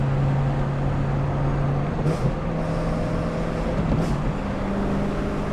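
A BMW S65 engine with a valved sport exhaust, valves closed, drones steadily and low throughout, with induction noise, a constant tone and faint shifts in pitch, fairly close and with no voices.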